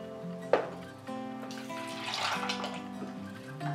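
Half a cup of water is poured over a cup of raw cashews for cashew cheese, a steady close splashing pour of a few seconds with brief knocks of the container, no talking.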